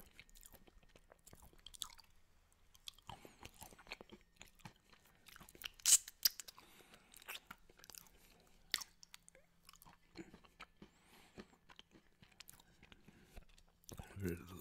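Close, quiet, wet mouth sounds of peanut butter and honey being licked off a plate, irregular smacks and tongue clicks scattered across the stretch, intimate and soft, with faint breathy whispering.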